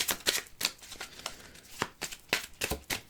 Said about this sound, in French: je vais faire tomber les cartes, comme ça